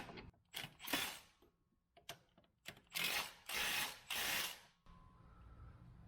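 A ratchet tightening down a driveshaft-clearance part on a vehicle, heard as several bursts of close, loud mechanical clicking and rasping with short pauses between them, then a quiet hum.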